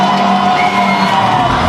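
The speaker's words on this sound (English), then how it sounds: "The fans in the stands have found their voice, applauding the Shujaa team" Crowd of fans in the stands at the RFUEA Grounds in Nairobi, cheering and applauding as the Shujaa rugby sevens team runs on for the Safari7s men's cup final, a dense continuous roar with whoops rising over it.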